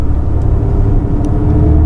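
A 2015 V6 muscle car engine idles with a steady, loud low rumble that fills the whole clip, with faint brief ticks above it and no talking.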